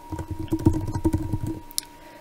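Brief quick keystrokes on a computer keyboard, a close, soft run of clicks lasting about a second and a half before stopping, with no talk.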